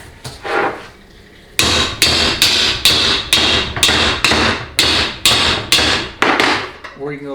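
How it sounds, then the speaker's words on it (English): Hammer blows knocking out a seal during a 4L80E automatic transmission teardown: about ten loud, sharp metallic strikes in a steady rhythm, close up, preceded by a lighter tap or two, with no talk over them. "you can take a hammer if you want"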